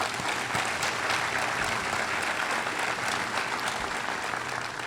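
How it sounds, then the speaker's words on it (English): Dense, even applause fills the hall at the Excellence in Education 2020 awards ceremony for the School District of Manatee County, many hands clapping together at a constant loud level throughout. "So we applaud you."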